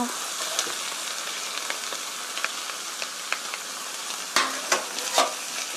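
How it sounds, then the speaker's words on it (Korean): Tomato meat sauce with onion and tomato paste being stirred in a frying pan, a soft steady sizzle with light repeated spatula taps and a few louder scrapes near the end. "이렇게 골고루 섞어주세요"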